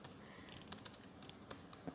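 Typing on a computer keyboard, a quick irregular run of faint close key clicks over a couple of seconds, with no talking.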